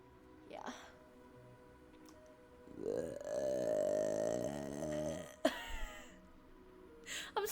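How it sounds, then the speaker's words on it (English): One long, loud, close burp rumbles for about two seconds, bracketed by softer throat and breath sounds, with a few sharp noises after it. "I think he, like, felt the vibration of my burp on his head."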